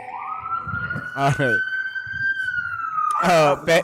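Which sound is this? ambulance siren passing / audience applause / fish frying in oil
ambulance siren passing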